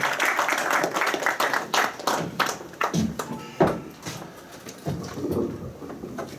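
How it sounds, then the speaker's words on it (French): Applause from an audience, steady clapping of many hands that thins out toward the end, with a few scattered claps lingering. "Je vous demanderai, s'il vous plaît, de l'applaudir."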